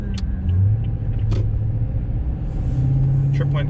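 Cab of a 2021 Toyota Tundra pickup truck driving off the freeway while towing a car, with a steady low engine and road rumble that holds loud and continuous under faint background sounds.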